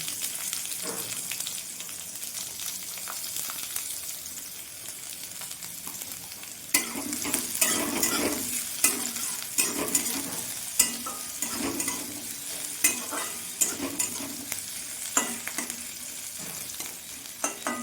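Chopped onions fry in a pan after garlic, giving a continuous sizzle broken by repeated scraping stirs that grow busier and more rhythmic halfway through, close and moderately loud, with no talking.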